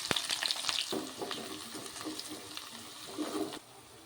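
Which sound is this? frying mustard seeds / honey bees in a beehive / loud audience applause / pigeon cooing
frying mustard seeds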